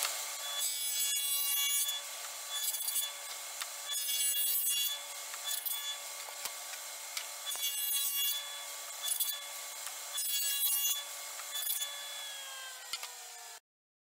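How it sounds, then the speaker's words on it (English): A table saw fitted with a dado stack cuts dados in wood on a mortising jig build, repeated bursts of rough cutting noise over a steady motor whine, roughly six passes, with the blade winding down at the end. "So I'm going to switch out my blade, put my dado stack in there, and cut four dados in here"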